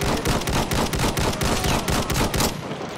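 Rapid, loud bursts of automatic gunfire in Battlefield 1 repeat in a steady rhythm, then cut off just before the end.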